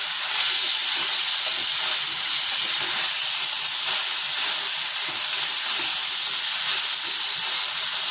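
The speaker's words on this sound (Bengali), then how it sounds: "মেথিগুলো একটু ভাজা ভাজা হয়ে যায়" Fenugreek leaves frying in a pan, a steady, close, even hiss of sizzling oil that runs unbroken throughout with no talk over it.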